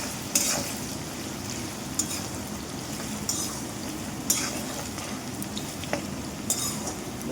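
Diced potato cubes frying in a pan, a continuous close sizzle with a few sharp clinks of a utensil against the pan spaced through it, no voices.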